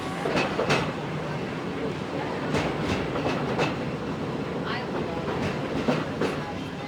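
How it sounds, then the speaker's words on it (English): A Magic Kingdom park train's wheels rumble and clack steadily along the tracks, with repeated sharp clicks and a hissing, rattling carriage noise, while passengers murmur in the background. "I've really enjoyed taking a train ride to start the day."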